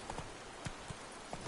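The horse Roach's hooves clop along in The Witcher 3, a handful of soft, evenly spaced trotting beats, faint and slightly distant.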